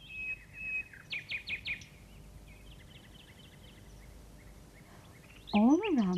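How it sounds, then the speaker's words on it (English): Nightingales sing from the treetops of a grove, bright whistled notes and quick trills repeating at moderate distance, before a louder swooping call bursts in near the end. "All around them, in the tops of the trees, the nightingales were singing."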